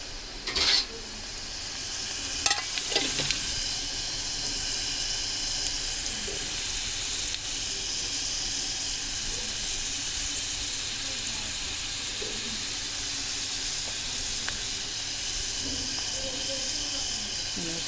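Cooking oil heating in a pan for Telugu pappucharu gives a steady, even sizzle and hiss that runs unbroken throughout, with a few faint clinks near the start.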